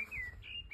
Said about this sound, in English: There's a blackbird singing there.